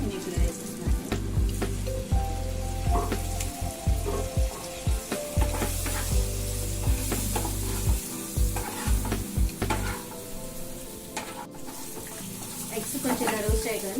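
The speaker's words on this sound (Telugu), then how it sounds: "కొంచెం స్ప్రెడ్ అయ్యాక ఆ 3 ఎగ్స్ని నేను ఇప్పుడు వేసేస్తున్నాను." Three eggs sizzle in oil in a pan and are stirred while being lightly fried for an egg gravy, a loud, close, steady crackle with scraping stirs throughout.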